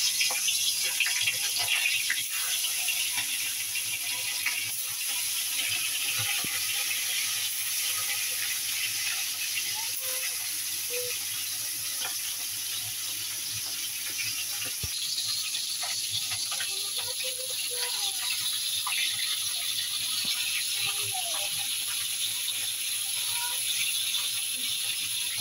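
Koi fish fry in hot oil, giving a continuous high sizzle with faint crackles and occasional clinks of a utensil nearby.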